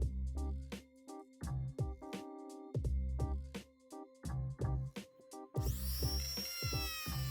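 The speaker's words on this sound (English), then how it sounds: "make sure that that drill bit is lined up dead center" A power drill making pilot holes in a Jason mask whirs in short bursts, starting and stopping repeatedly up close, then ends in a harsher grinding whine.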